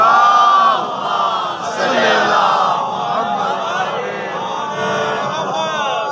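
A large crowd recites salawat loudly in unison, a swelling collective voice that rises and falls in waves, close and filling the space.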